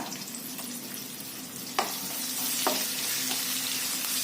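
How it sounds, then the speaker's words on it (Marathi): Onion and green chillies sauté in a pan for dal khichdi, giving a steady, close frying sizzle. A couple of sharp spatula scrapes and stirs cut through it, with no talking. "दोन मिरच्या उभ्या कापून घेतलेल्या घालायचे त्याच्या थोडस परतलं गेल्यावर त्यामध्ये बारीक ओला उभा कापलेला कांदा"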